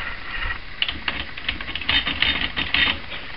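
Keys clack on a Hammond Folding Multiplex typewriter, a run of sharp mechanical taps with small ratcheting clicks, close and uneven in rhythm.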